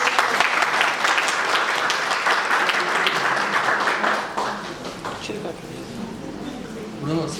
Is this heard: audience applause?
yes